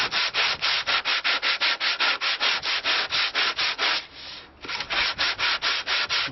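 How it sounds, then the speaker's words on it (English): Hand sanding the wooden soundboard of an Anglo-Saxon lyre flush, rapid rhythmic back-and-forth rasping strokes, close and steady, with a brief pause midway before the strokes resume. "is to sand flush one of the faces, and then we're going to attach that to a board"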